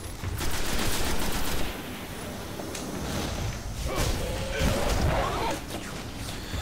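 Weapon fire in the video game Destiny on PS4, with repeated sharp bursts and shots over a dense mix of in-game effects and whooshes, fairly steady and loud throughout.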